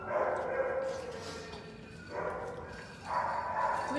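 Several dogs barking in short bursts at a middle distance, rising in two or three waves, with people talking nearby.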